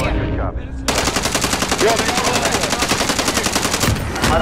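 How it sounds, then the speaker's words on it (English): Rapid automatic gunfire rattles loud and continuous through most of a video-game airstrike, with heavy booming impacts and a brief burst of shots at the start; players' voices can be faintly heard beneath. "What an airstrike."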